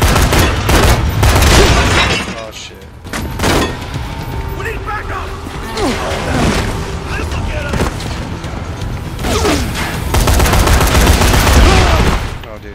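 Gunfire in the Xbox One game Dead Rising 3, with dense bursts of shots and booms repeating across the clip, loud and close, while someone talks over it.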